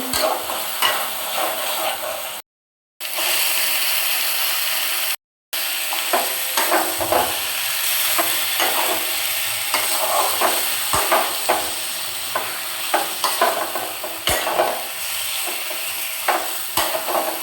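A ground spice masala is stir-fried in oil in a pan, giving a steady sizzling hiss broken by repeated scraping and stirring knocks. The frying drops out briefly twice.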